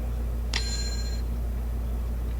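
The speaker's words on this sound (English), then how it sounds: "let's see what happens now when I do the bell." One bright ding of a small bell rings out, its tone ringing for about half a second before fading, over steady low background hum in a quiet room.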